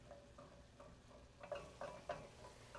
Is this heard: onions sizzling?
yes